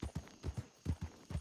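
Horse hooves in Red Dead Redemption clip-clop at a steady walking rhythm, about eight soft, fairly distant beats in quick pairs.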